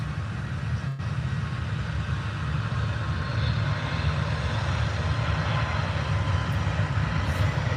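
A Ryanair Boeing 737 MAX at Birmingham airport produces a steady, broad engine roar at moderate distance, continuous and without talk.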